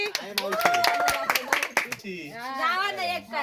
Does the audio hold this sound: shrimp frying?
no